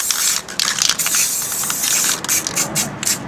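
Spray paint hisses onto a stencil in several bursts and short sweeps, close and fairly loud, with brief gaps between passes and no voices.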